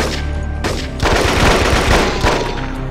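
Rapid automatic gunfire in the jungle-warfare shooter Marine Sharpshooter 2, loud dense bursts rattling continuously through the second half after a brief lull.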